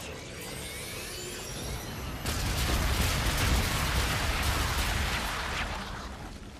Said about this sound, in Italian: Bombardamento alleato in corso.